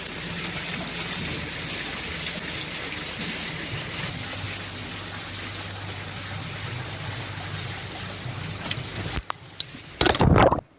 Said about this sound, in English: The water is running.